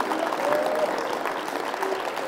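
A church congregation applauds steadily throughout, dense overlapping claps at moderate volume, with some voices mixed faintly underneath.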